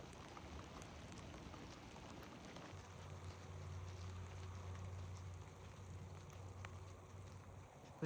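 Steady heavy rain falling in an Oregon mountain forest wilderness, a faint even hiss of drops on leaves and ground with a low rumbling undertone, continuous and without voices.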